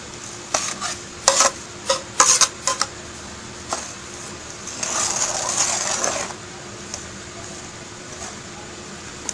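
Crushed green chillies being stirred into oil for a green chilli paste pickle, with a few sharp scraping and clinking strokes early on, then a soft sizzling, churning stretch before it quiets.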